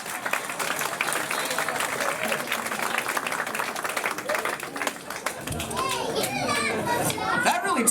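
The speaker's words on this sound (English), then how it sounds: "All right, give him a round of applause." A live audience claps and cheers steadily for a volunteer at a magic and comedy show. Children's voices and crowd chatter rise over the applause in the closing seconds.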